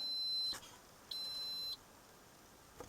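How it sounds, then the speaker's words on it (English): A Toyota Prius startup warning: two sustained high electronic beeps, each about half a second long, separated by a short pause, then a faint click at the end. "It's beeping at me."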